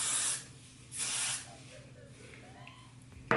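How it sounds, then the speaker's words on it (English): Got To Be holding spray misted onto hair from an aerosol can, two short close hissing bursts about half a second each, followed by quieter rustling handling and a brief click at the end. "What I use is this Got To Be holding spray"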